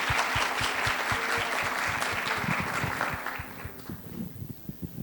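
A live audience at Sesc Santo André gives sustained applause for a guest at an author's talk, with dense, even clapping that thins toward the end into scattered claps.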